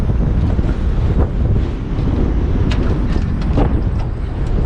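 Wind buffets the microphone on a small fishing boat out on shallow water, a steady rushing roar with gusty swells and faint knocks, no one speaking.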